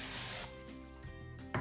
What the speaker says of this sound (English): Then get a little bit of oil spray.